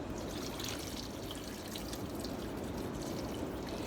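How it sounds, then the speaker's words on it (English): Water is poured into a pressure cooker for cooking Boston baked beans, a steady continuous splashing stream held close and even throughout. "I'm going to add 4 cups of water."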